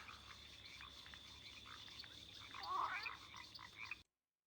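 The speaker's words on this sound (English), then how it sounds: "So this is like the frog, but it's a toad." A toad creature in Spore croaks in a steady run of raspy calls that swell louder near the end, clear and close with no talking over it.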